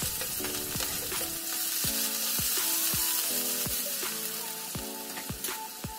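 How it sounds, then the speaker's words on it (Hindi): Finely chopped onions sizzle loudly in hot oil in a kadai under a constant frying hiss, broken by repeated rhythmic metal clinks and scrapes from stirring about every half second. No voices. "कढ़ाई में तेल डालेंगे यहां हम ले रहे हैं बारीक कटे प्याज"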